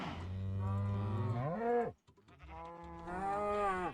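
Farm animals in a video game, with a long, low cow moo followed by a brief pause and then a higher, wavering bleat like a sheep, clear and close with no talking.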